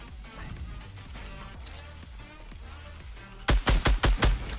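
Gunfire in the video game Fortnite: a burst of about six loud, rapid shots near the end, following a stretch of busy game background noise.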